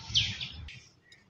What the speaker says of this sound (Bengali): গাছে পাখি ডাকতেছে